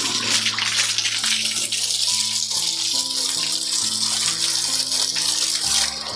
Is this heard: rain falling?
no